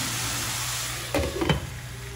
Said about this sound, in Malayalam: അപ്പോൾ ചിക്കൻ രണ്ട് സൈഡും ജസ്റ്റ് ഒന്ന് ഷാലോ ഫ്രൈ ആയിട്ടുണ്ട്.